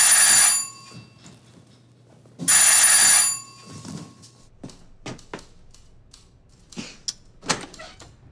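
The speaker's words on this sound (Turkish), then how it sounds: "Şu zile yavaş bassana." An electric doorbell rings loudly twice in long buzzing bursts, followed by quieter thumps, footsteps and movement nearby.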